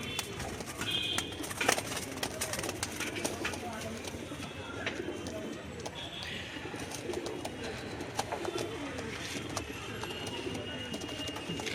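Domestic pigeons coo in soft repeated rolls at close range, mixed with rustling and wing or foot movement, while someone talks over them.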